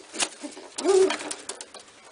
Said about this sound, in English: That's a little bitty pigeon there.